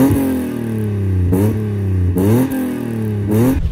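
A nearby BMW straight-six engine revs repeatedly, rising sharply in pitch three times and falling back to a steady idle between blips, loud and close.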